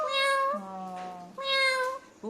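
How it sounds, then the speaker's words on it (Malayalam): A cat meows twice, long, drawn-out cries close by, with a short pause between them. "അപ്പോ അങ്ങനെയാണ് പൂച്ച മിയാ മിയാ"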